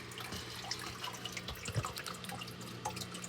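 Water poured slowly into an axolotl tank during a weekly water change, a soft continuous trickle and splash with scattered drips, close and faint, no talk.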